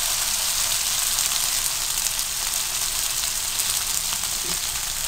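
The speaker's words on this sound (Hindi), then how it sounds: "मैं तकरीबन 10 मिनट से लो टू मीडियम फ्लेम पर गोश्त को फ्राई कर रही हूँ" Beef sizzling steadily in a pan over a low to medium flame, a dense, even crackle and hiss that holds at a constant level throughout with no talking.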